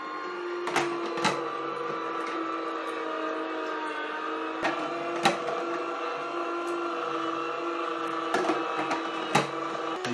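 A Kitfort KT-1102 electric juicer runs steadily while pressing oranges, a constant close motor whine and hum with occasional knocks and clicks from the fruit and housing, no talking.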